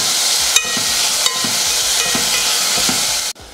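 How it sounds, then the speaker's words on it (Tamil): Three chopped tomatoes sauté with turmeric in a hot pan for goat intestine gravy, a steady loud sizzle broken every second or so by a spoon stirring and scraping, ending in a sudden clatter. "3 தக்காளி. இதையும் நல்லா வதக்கிடலாம்."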